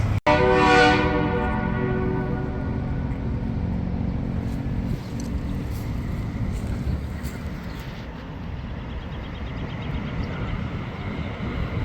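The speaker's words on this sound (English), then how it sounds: "This thing has a beautiful train horn on this thing." A loud train horn fitted on a semi truck blares in one long chord from close range, then gives way to a rumbling engine and road noise that continue to the end.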